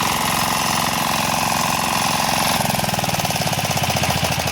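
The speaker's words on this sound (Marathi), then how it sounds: "लय टाईम घेतला नाही मशीन चालू होण्यासाठी" A diesel engine machine on a farm in Konkan runs loud and close, its steady drone turning into a rapid, rhythmic chugging partway through.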